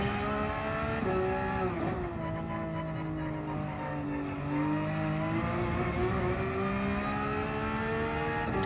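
Porsche 992 GT3 R race car engine in Gran Turismo 7, a continuous loud harmonic drone rising and dropping through gear changes as it accelerates and lifts, heard up close with no voices.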